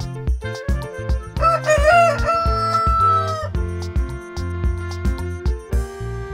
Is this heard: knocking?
no